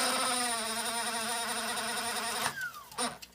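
An Akai 1730D-SS quadraphonic reel-to-reel deck rewinding tape: a steady, whining mechanical hum with a buzzing, insect-like quality, then a falling pitch as the reels slow near the end, with no talking.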